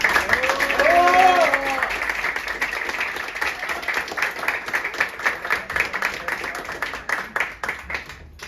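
An audience breaks into applause for a president at a talk on Mexico's guerrilla movements, a dense wash of clapping that builds and then continues steadily, with a voice heard briefly near the start.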